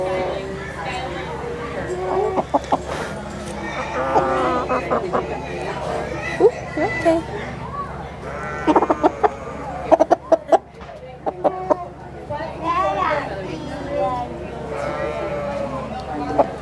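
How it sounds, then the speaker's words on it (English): Chickens and other small livestock at an animal market and breeding show, with clucks and bleat-like calls scattered through a busy, reverberant hall while a person speaks soothingly nearby and crowd noise runs underneath. "Chicken."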